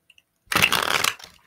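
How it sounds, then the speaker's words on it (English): A quick riffle of cards being shuffled, a dense papery flutter lasting under a second, preceded by two faint ticks. "One more shuffle."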